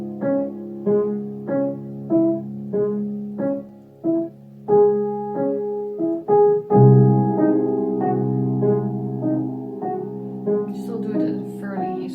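Piano playing the triplet figure of Beethoven's Moonlight Sonata first movement staccato at a slow tempo: short, evenly spaced detached notes in a steady pulse. The playing then moves into held, ringing chords, with no voice.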